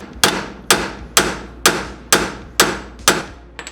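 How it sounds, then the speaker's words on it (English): Seven sharp metallic hammer blows land in an even rhythm on a stuck bolt on a Toyota Supra MK3's rear suspension, each ringing briefly before the next strike. "we're gonna whack this a couple times with a hammer to break it free"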